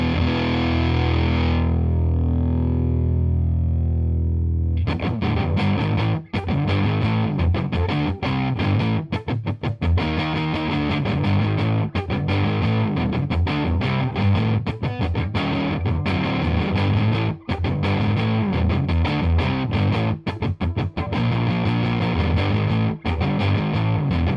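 Electric guitar played through a JHS Smiley Fuzz Face-style fuzz pedal, heavily distorted and loud, with a short sustained note at the start followed by continuous strummed and picked fuzzy chords and riffs, no voices.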